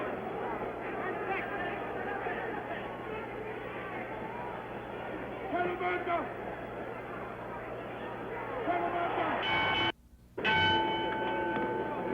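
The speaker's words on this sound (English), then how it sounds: "The bell for round 7" A boxing ring bell clangs to start round 7 of Ali versus Norton, 1973, at the San Diego Sports Arena. Its strikes ring briefly over a dense crowd roar and live commentary.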